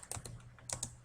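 Keys clatter on a computer keyboard in a short burst of a few quick, light taps, close by and fairly quiet, with no voices.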